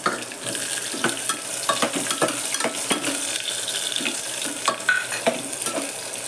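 Ginger, curry leaves and onion fry for khichdi in a continuous sizzle, with a spoon repeatedly knocking and scraping the pan in irregular clicks close by.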